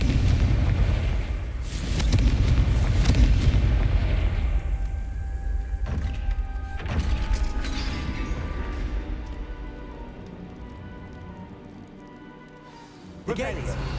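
A Confringo blasting spell cast in Hogwarts Legacy gives a deep, rumbling boom that swells for a couple of seconds amid layered game sound and a voice, then fades into a lingering low ambience with a sharp hit near the end.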